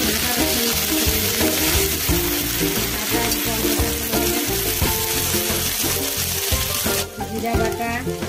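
Ginger and garlic fry in oil in a wok for prawn malai curry, a loud, close, continuous sizzle with crackling spatter and occasional stirring, easing briefly near the end.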